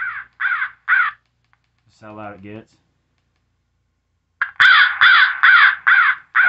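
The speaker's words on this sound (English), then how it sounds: "So, it'll play crow." A Western Rivers Mantis Pro 100 electronic game call blasts crow caws in loud, close bursts, three at first and a longer run of about six near the end, with a brief spoken remark between them.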